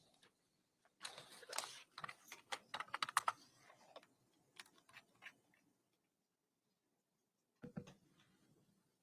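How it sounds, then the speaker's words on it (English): Bursts of typing on a computer keyboard, quick irregular clicks in a cluster, a pause, then a brief second flurry, fairly close in a quiet room during a courtroom proceeding. "Did I just hear the keyboard?"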